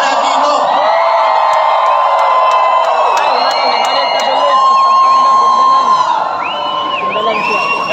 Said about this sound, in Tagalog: naririnig ni Pastor ang hiyawan at sigawan na mga nandito